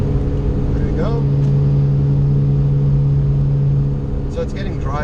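A car engine holds a loud, steady full-throttle drone along a flat section of track, the tone sustained for several seconds before easing slightly, while a voice talks over it.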